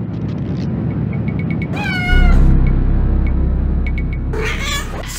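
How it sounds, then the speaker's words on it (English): A cat in the horror adventure game Phantasmagoria gives loud, drawn-out meows that rise into a harsh caterwaul midway, then one more yowling cry near the end, with no talking. "Not a nice kitty. Don't do that."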